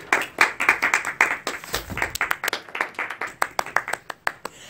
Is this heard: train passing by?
no